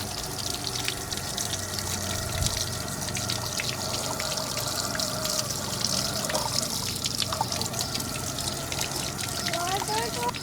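Water trickling and dribbling as it drains from a travel trailer's RV water heater tank, a steady close running flow with faint intermittent drips throughout.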